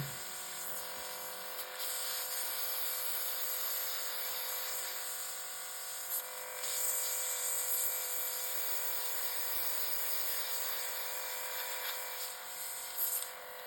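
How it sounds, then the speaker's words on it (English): Steady hissing spray of acetone from a cordless airbrush runs the whole time with a faint mechanical whine, fairly even with slight surges, close by and without voices. "I'm going to spray the remaining acetone"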